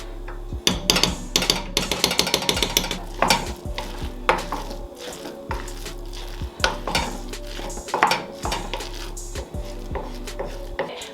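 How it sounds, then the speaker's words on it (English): A pan sizzles as a tablespoon of butter melts for a vegetable curry, with repeated clanks and scrapes of a utensil against the pan and a low steady hum underneath. "Then I'm going to be adding about a tablespoon of butter."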